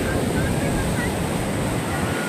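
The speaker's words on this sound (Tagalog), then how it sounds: "malalaki ang alon" Large sea waves at a beach in La Union, a continuous loud roar of surf mixed with wind buffeting the microphone.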